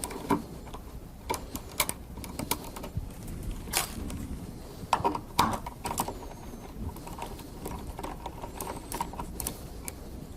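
A T10 Torx driver backs out screws from a Motorola SLR 5000 Series repeater's power amplifier module, giving sharp scattered clicks and ticks of metal on metal, close and intermittent, with no talking.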